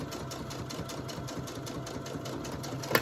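Sewing machine back stitching fabric for a triangle pouch, a steady, rapid mechanical whirring and ticking that runs without pause, close and alone.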